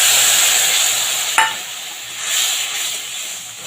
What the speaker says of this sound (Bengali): সামান্য একটু জল দিয়ে মশলাটাকে আমি কষিয়ে নেব ভালো করে